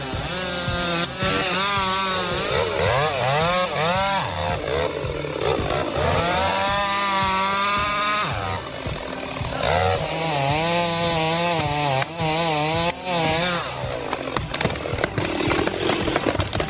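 A giant chainsaw cutting into a 10-foot Douglas fir, its engine roaring loud and close and rising and falling in pitch as it revs and bogs through the wood for the whole stretch.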